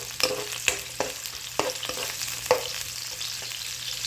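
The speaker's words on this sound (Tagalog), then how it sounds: "Gisalit, sibuyas na na." Onions sautéing with garlic in a home pan for a breakfast dish, a steady sizzle broken by a run of sharp stirring scrapes and clinks, close and loud, with no talk.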